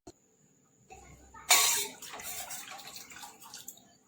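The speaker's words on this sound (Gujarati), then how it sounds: "હવે આમાં આપણે 1 ગ્લાસ પાણી એડ કરીશું, બીજો અડધો ગ્લાસ એડ કરીશું।" Water is poured into a cooking pot for Gujarati dal, a short splashing gush that rises suddenly and trails off into a softer trickle, fairly quiet and with no talk.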